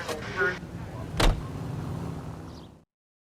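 A car being driven in the video game L.A. Noire, with a steady engine hum and a sharp thud partway through, fading out toward the end.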